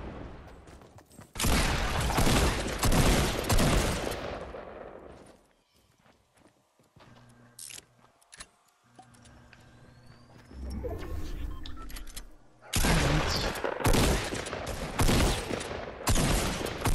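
A minigun in the video game Fortnite fires in two long, dense bursts of rapid shots, loud and close, separated by a quieter stretch of faint shuffling and clicks.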